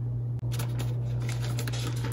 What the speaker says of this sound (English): Again, I'm gonna zip that close and shake like crazy.